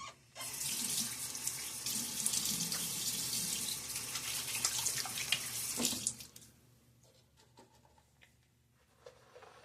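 Water runs from a bathroom sink tap in a steady hiss and splash for about six seconds, then shuts off, leaving only faint drips and small handling sounds.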